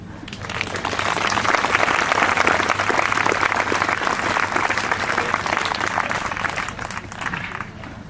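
A crowd at an outdoor skatepark vigil applauds steadily, a dense, sustained wash of clapping that swells in the first seconds and holds loud, then eases slightly near the end.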